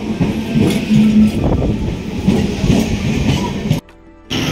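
A train pulling into Domjur station on a Bengal suburban line, heard as a loud rolling rumble and clatter of wagons that runs steadily before cutting out briefly near the end.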